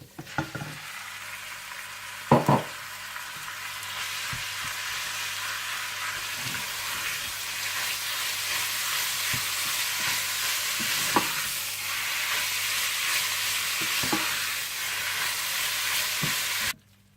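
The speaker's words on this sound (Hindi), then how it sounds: "जीरा और अदरक लहसुन भूनने के बाद आप इसमें कीमा डालकर भून लें।" Minced keema fries with cumin, ginger and garlic in a pan, a steady broad sizzle running throughout with a few sharp clinks and scrapes of stirring, close and fairly loud, no talk.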